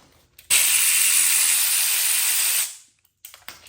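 A ratchet or power tool working on 8mm bolts on a failed Ford engine, one loud steady whirring burst of about two seconds, close up, followed by a few faint clicks.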